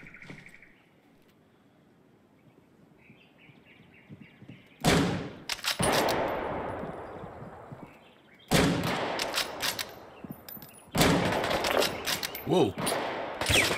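Gunfire in the survival shooter Deadside: three loud, close blasts at spaced intervals, each trailing into a long rumbling echo, after quiet ambience with faint chirps and a brief spoken exclamation.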